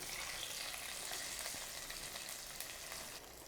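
Peanut and cashew tempering tipped into a pan of Karnataka-style bisi bele bath, giving a steady, close sizzle and fry hiss that runs the whole time, fading a little near the end.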